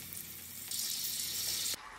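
Hibiscus petals dropped into hot coconut oil in a small pan for homemade herbal hair oil, giving a steady soft hiss that swells into a brighter sizzle for about a second, then settles back.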